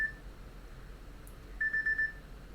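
A smartwatch alarm sounds in a quiet room, thin high electronic beeps: one short tone at the start, then a longer pulsing run of beeps near the end.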